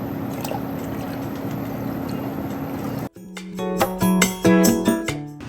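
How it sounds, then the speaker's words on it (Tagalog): Aircon condensate water pours into a home fish tank in a steady splashing stream for about three seconds, then stops abruptly and gives way to clear tonal notes. "Kaya top up tayo ng tubig aircon."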